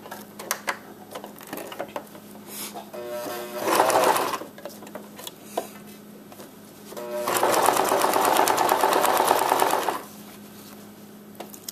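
A sewing machine stitches an exposed zipper on an outer garment, running in two steady bursts, a short one and then a longer one, with quiet handling and pauses in between.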